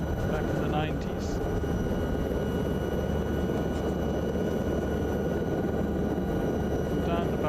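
Steady, loud helicopter rotor and engine drone heard from inside the cabin on a flight over Ballina, Ireland, continuous and unbroken throughout.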